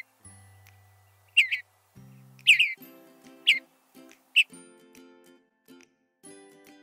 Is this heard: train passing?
no